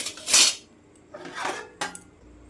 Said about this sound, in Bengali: এখন তালটা গুলে নেব